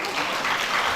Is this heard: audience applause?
yes